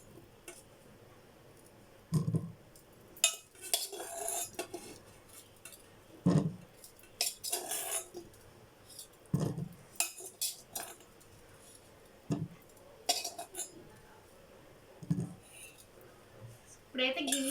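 Boiled potatoes dropped one by one into a bowl, giving sporadic clinks and soft thuds of utensil and dish contact at irregular intervals, fairly quiet with pauses between.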